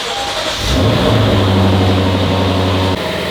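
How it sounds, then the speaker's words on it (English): Lexus RC F V8 starting up after an oil change, a quick crank catching into a loud, steady idle rumble close by that holds for a few seconds before settling, with no talk. "Hear that V8 purr."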